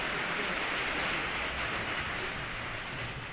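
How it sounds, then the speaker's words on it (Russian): Heavy rain pours down in a dense, steady hiss that fills the whole scene, with no one speaking, during a downpour in Kuban, Russia. "Такой сильный дождь, шума столько."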